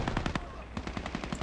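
Rapid automatic gunfire from the video game Battlefield rattles in two quick bursts separated by a short pause, punchy and fairly close, with faint speech in the background.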